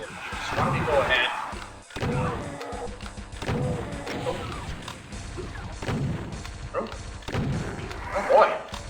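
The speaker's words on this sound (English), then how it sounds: "Break out your shotgun because as soon as you fire it off at the imps, a revenant will appear." Shotgun blasts against imps in a DOOM level, several heavy booming shots spaced a second or two apart, each followed by crashing game noise, with someone talking between and over them.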